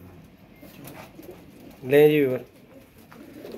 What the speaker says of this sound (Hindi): ये है रामपुरी असल कबूतर